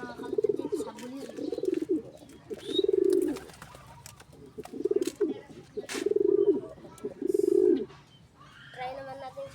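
Pigeons coo close by in a series of soft, low, rolling phrases with quiet pauses between them, plus faint background sounds and a brief voice at the end.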